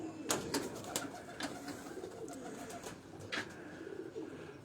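Domestic flying pigeons cooing at a breeder's rooftop loft in Dharampura, Lahore, a steady low murmur of overlapping coos close by with a few sharp clicks and flutters.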